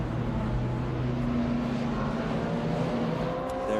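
A Porsche 911 race car in Martini livery passes on the Lime Rock circuit, its engine a loud, steady roar with a sustained tone, close by and heard alone without talk.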